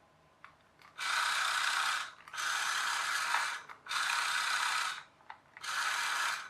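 Gears of an RC low rider truck grind in four long motor bursts separated by short pauses, a steady close whirring ratchet-like buzz with no talking.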